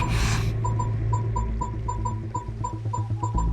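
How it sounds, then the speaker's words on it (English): Rhythmic electronic zaps from the video game Genshin Impact pulse in a steady repeating pattern over a low droning hum, after a brief burst of noise at the start. "There's the sound of electro-zapping in the air."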